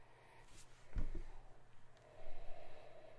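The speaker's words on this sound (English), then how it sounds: "Let's give it a sniff." A single short, sharp sniff at a glass of Kerel Stout, a Belgian stout from VBDCK Brewing, close to the microphone amid quiet room tone, followed by faint breathy rustle.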